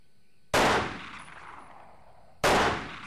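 Two sharp, loud gunshot effects ring out about two seconds apart, each striking hard and then trailing off into a reverberant tail, with no voices.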